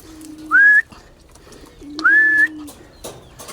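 Two soft, throaty coos from a pigeon, each a low drawn-out note with a rising whistle-like tone, separated by a short pause; nearby and fairly clear.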